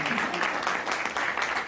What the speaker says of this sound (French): On peut applaudir l'équipe qui organise ça.